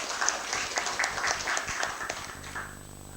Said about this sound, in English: Please applause for the Professor Rika.